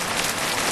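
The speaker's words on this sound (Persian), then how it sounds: "زیر بارون خیس میشین" Steady rain falling outdoors, a dense, even hiss with no breaks over a brief moment, fairly loud and with no voices.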